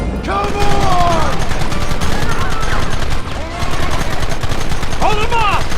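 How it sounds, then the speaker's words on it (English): Dense, rapid gunfire from a shootout in the western video game Red Dead Redemption, loud repeated shots with shouted voices over the top and one brief lull partway through. "Open fire!"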